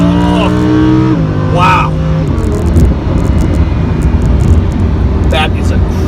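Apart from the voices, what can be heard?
Lamborghini Huracan accelerating after downshifting gears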